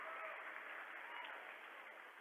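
A crowd at a basketball game claps steadily as a player heads to the bench, a sustained wash of applause at moderate level from start to finish.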